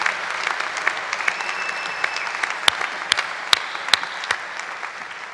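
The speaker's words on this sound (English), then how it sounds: "so give yourself a round of applause for helping us set some history." Applause from a large audience at an Illinois State University spring commencement, a broad steady wash of clapping with sharp individual claps standing out, sustained at even volume throughout.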